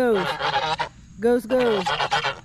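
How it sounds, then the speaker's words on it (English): Geese fussing by their water pool on a farm, giving loud, close honks in two quick bursts of harsh, nasal calls separated by a short pause. "Goose is fussing because I haven't changed their water today."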